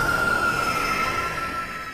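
The Rat's jumpscare in the horror video game Five Nights at Candy's, a loud, grinding screech with a steady piercing squeal running through it, sustained for about two seconds with no talk.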